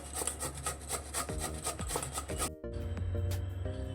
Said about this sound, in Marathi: आता आपण हे दोन बीटची सालं काढून घेतलेली आहेत ते मी किसून घेत आहे